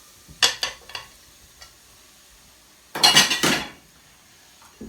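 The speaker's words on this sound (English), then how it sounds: "I'm literally just going to add in the carrots, the celery, the tomatoes," Chopped carrots, celery and tomatoes tumble into a cooking pot for tomato soup: a few close clattering drops and scrapes against the pot, then a louder burst of rattling and tumbling, with no talk.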